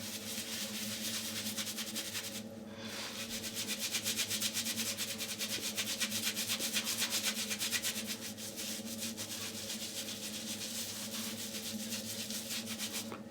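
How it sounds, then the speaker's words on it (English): A shaving brush works Tabac shaving soap into a face lather, a steady wet rubbing and swishing that runs continuously and fairly loud, with a constant low hum beneath and a brief pause partway through. "I'm just going to start making a face lather."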